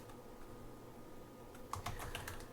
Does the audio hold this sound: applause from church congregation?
no